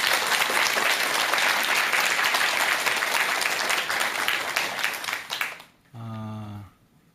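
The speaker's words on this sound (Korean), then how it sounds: "큰 박수 한번 부탁드릴게요." An audience at a talk by a Buddhist monk bursts into loud, dense applause that holds steady, then thins and fades out, and a brief tonal voice or sound follows at the end.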